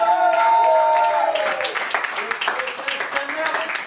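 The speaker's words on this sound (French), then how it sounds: "Vous pouvez leur applaudir" A crowd at a slam poetry night breaks into scattered, rising applause and clapping after a sustained tonal sound, with a speaking voice partly over it.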